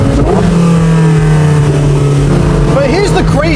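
A Porsche 918 Spyder hybrid hypercar with PDK gearbox revs hard while accelerating, a loud, close engine note that climbs and then shifts through rapid rising sweeps near the end.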